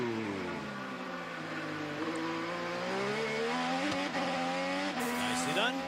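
IndyCar race cars scream down the front stretch at the 2012 Edmonton Indy, their high engine notes sweeping and shifting pitch as they pass, loud and continuous beneath a commentator's voice.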